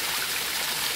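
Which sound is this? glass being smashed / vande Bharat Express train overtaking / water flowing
water flowing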